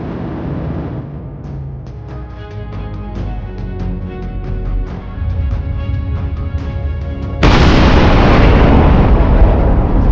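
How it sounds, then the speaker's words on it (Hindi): A volcanic eruption rumbles over a tonal, music-like background. Near the end it swells into a sudden loud, broadband roar that continues to the close, with no speech. "इसी घटना को कहते हैं ज्वालामुखी विस्फोट"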